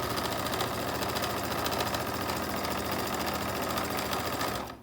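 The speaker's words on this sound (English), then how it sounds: "I'm gonna stitch down this whole side." Sewing machine stitching down the side of a face mask, a steady continuous motor whir with fast needle chatter running unbroken at close range before stopping abruptly at the end.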